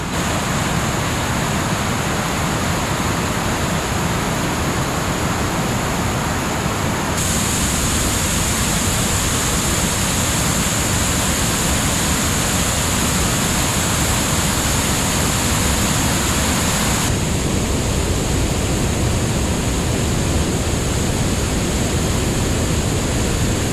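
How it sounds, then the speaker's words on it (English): A woodland waterfall pours continuously in a steady, dense rush of water, loud and close throughout, with a faint shift in tone partway through and no voices. "Really cool waterfall."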